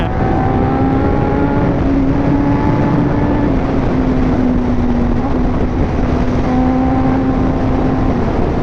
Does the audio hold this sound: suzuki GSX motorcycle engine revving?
yes